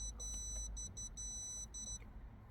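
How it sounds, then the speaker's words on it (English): An aftermarket wideband/lambda gauge fitted to a Volvo 940 emits its alarm: a rapid series of high electronic beeps in several short bursts, then a longer steady tone, clear and close over a low background hum. "So these are different alarm types."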